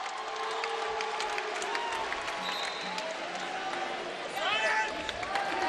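A basketball crowd at a Gonzaga vs Portland game gives a warm round of applause as a player departs, a broad wash of clapping and cheering under steady commentator talk.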